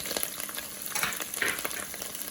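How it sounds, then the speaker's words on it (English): Masala with ginger sizzles and fries in a pan for a chickpea chana masala, a steady close crackling hiss with brief stirring bursts, no voices. "Okay, you can see the masala is really sizzling."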